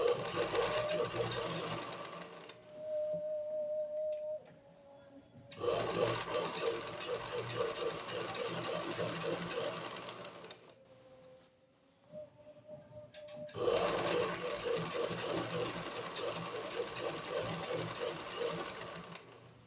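A sewing machine stitches a zigzag fold into saree fabric, running in three steady bursts separated by short pauses, close and fairly loud with no talk.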